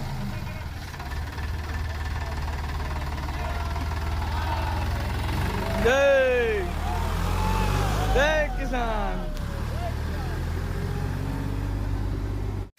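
A farmers' tractor engine rumbles steadily at a low idle, then revs as it sets off at night toward Gandhinagar, while voices chant and talk over the continuous engine drone.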